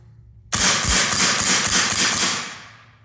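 An E&L T-191 airsoft gun fires a rapid full-auto burst of rounds lasting about two and a half seconds, loud and close, a steady mechanical rattle that tapers off at the end.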